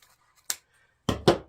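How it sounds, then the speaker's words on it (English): Scissors snipping through a stack of ribbon, one quick snip followed by a pause and then two firmer close cuts in fast succession, crisp and isolated. "just go ahead and cut your ribbon off"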